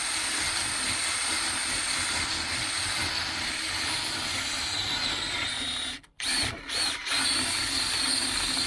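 A sacrificial drill bores out old Metalastic front axle bushes on a 1993 Range Rover LSE, a loud steady whine that cuts out abruptly near the end, then briefly restarts and stops twice.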